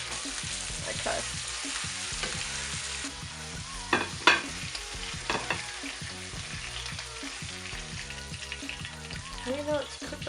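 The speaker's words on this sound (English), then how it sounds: "Now we cook the tortilla." A tortilla cooking in a hot pan, a steady low sizzle running throughout with occasional scraping clatters, close and fairly quiet, with faint voices in the background.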